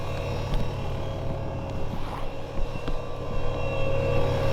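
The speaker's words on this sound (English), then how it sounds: "their oil pump, as you hear, is extremely loud, but it's doing its job" A loud, steady mechanical whine and hum from the turbo oil pump of a newly installed turbo kit on a V6 S550 Mustang, with faint clicks and knocks scattered through it, close and unbroken.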